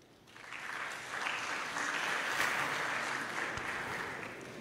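Sustained applause from an audience at an election results proclamation ceremony, steady and dense throughout, rising after a moment and holding at a loud level.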